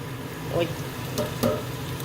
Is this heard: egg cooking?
yes